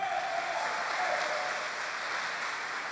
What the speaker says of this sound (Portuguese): Quantos podem dar uma salva de palmas?